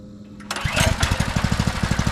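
A Predator 224 engine fitted to a vintage Ariens mower starts on the first pull at quarter throttle, catching after a brief tug and settling into a loud, close, steady chugging idle.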